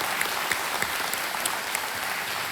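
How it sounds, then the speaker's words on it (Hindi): A studio audience on the Indian game show Kaun Banega Crorepati applauds: dense, steady clapping from a large crowd, fairly loud and continuous throughout. "तालियां बज जाएं इनके लिए"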